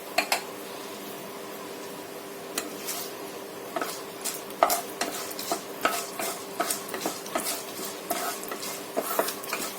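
Tempering spices added to hot ghee, with a light crackling sizzle and repeated sharp clinks and scrapes of a spoon against the pan, close by, with a faint fan hum underneath.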